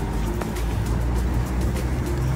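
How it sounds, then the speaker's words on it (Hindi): Evening road traffic on a London city street near Canary Wharf rumbles continuously, with the dense low roar of passing cars and a few sharper swishes rising over the steady wash. "तो आप ट्रैफिक देख रहे हैं कितनी है"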